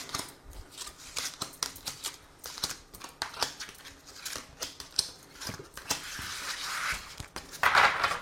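Tarot cards are shuffled for a reading, close irregular flicks, slaps and riffles with a longer soft swishing run of cards sliding together near the end, no talking.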